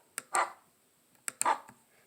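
Two short, quiet dog barks, each preceded by a sharp click, separated by about a second of near silence.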